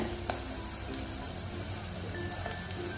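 Chopped onions and curry leaves sautéing in hot oil with cumin and mustard seeds in a pan, a steady close crackling sizzle with scattered pops, continuous and even with no talk.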